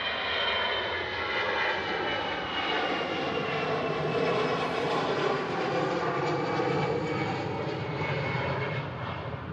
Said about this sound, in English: EasyJet on the roll out to Belfast.